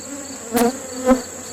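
Honeybees buzz in an opened hive during fall feeding, a soft steady hum with two brief louder buzzes of bees passing close by.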